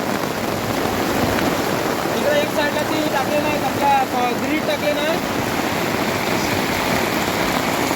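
Steady dense hiss of heavy unseasonal April rain pouring in the Konkan throughout, with someone speaking briefly over it in the middle.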